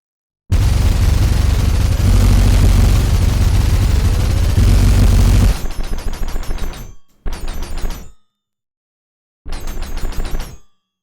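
A weapon in Ultrakill fires in a sustained, loud overheated burst of rapid shots lasting several seconds, followed by three shorter bursts of rapid fire separated by silence.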